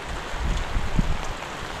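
Steady rain falls continuously on a bitter gourd farm, an even broadband hiss with a few faint low thumps and no voices.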